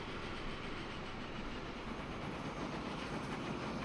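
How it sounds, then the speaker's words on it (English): A passenger train and a tanker train roll by in the Transport Fever 2 simulation, a loud, steady rumble of wheels on rails with faint clickety-clack, continuous throughout. "Oh, look, we got two trains oncoming here. Okay, so we got a passenger train"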